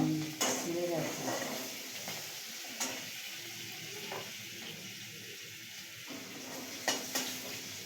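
Fried potatoes and fish go into a wok with green chillies and a little oil for a fish curry, a soft continuous sizzle with occasional stirring knocks and scrapes, and some quiet voices in the background.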